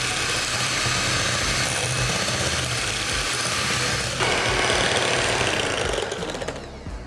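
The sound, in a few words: electric whisk mixing vegan cake batter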